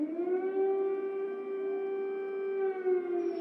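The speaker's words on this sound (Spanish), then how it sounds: "cuando las sirenas del horror despertaron a Kiev" Air raid sirens wail over Kiev in a steady, sustained rising-and-holding tone, loud and continuous with no voices.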